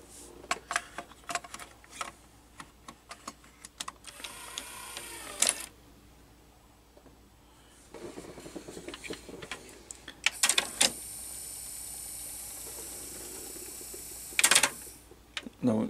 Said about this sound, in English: So I will load the tape in.